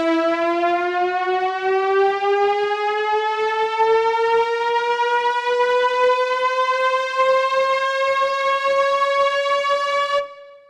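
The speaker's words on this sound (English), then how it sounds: "It's like a pan riser." An NI FM8 synthesizer plays a riser with a long glide, one sustained bright tone that sweeps steadily upward for about ten seconds before cutting off, loud and alone.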